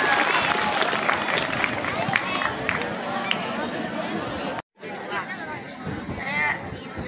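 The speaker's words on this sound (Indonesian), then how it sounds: "Aplaus sekali lagi." Audience applause at a school event for the Padang city Red Cross (PMI) and pencak silat association (IPSI) program, a dense, steady clapping from a crowd with some chatter, broken by a brief dropout before resuming.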